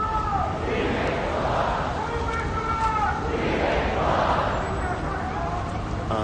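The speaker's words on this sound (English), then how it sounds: "Crowd is still growing." A growing protest crowd in a New York City park chants and shouts in rising and falling waves of massed voices, moderately distant and continuous.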